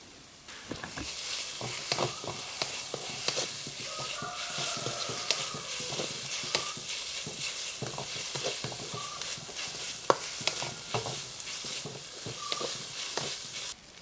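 Ginger garlic paste, salt and garam masala sizzling in a pan for a soya chunks curry, steady frying hiss with frequent scraping stir strokes close by.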